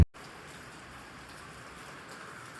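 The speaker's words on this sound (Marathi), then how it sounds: "पाऊस तर बेकार पडतोय" Dense, steady rain pours down, a continuous hissing wash of drops with no voices, holding at an even level after a brief bump at the start.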